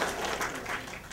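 Short burst of audience applause at a marketing seminar, many hands clapping in a dense, fairly loud wash that lasts about a second.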